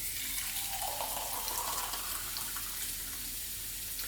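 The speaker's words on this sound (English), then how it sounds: "Now fill this up with a little bit of pre-boiled water from the kettle." Pre-boiled water from a kettle pouring steadily into a jug in a home kitchen, a continuous close rushing trickle.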